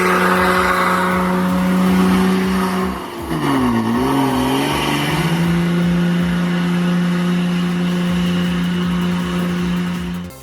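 A Ford Cargo 3230 truck engine labouring over a rough road, loud and close, with a steady droning tone that dips and wavers for a moment before settling back into a sustained heavy rumble, no voices.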